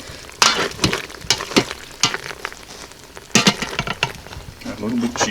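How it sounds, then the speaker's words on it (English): A spoon stirs cheese into pasta shells and sausage in a pot, giving irregular wet scraping and clattering strokes with a faint simmer underneath, and a brief murmur at the end. "Let me give that a stir and add my cheese."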